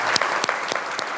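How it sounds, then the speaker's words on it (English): Audience applause for Michelle at a morning presidential plenary session, a dense steady wash of clapping with a few sharper claps standing out, sustained and fairly loud throughout. "I think that we need to give Michelle a great big round of applause."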